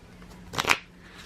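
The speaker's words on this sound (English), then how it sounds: "So now we want to shuffle the cards." Deck of playing cards shuffled once, a quick close riffle burst lasting a fraction of a second in an otherwise quiet room.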